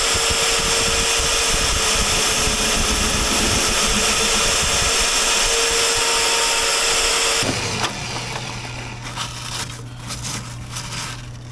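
An Evolution magnetic drill cuts a plug from metal with a loud, harsh grinding whine that stops abruptly partway through, leaving a lower motor hum and light rattling as it winds down.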